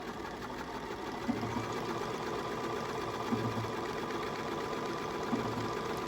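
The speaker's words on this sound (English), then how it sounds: "So it knows the length, so it just starts stitching." A Bernina 535 sewing machine stitches on its own at a steady, even pace, a close, moderately quiet mechanical hum with rapid needle clatter.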